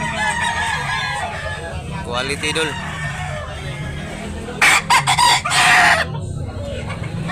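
Chickens and fighting roosters at a poultry market in Tabunok, Talisay, Cebu cluck and crow, with one loud near crow breaking through amid a busy background, while someone talks throughout.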